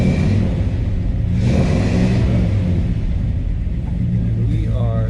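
A 1951 Chevy panel truck pulls out onto a street, its engine rumbling loud and close with a surge of revving, while someone talks over the low mechanical drone.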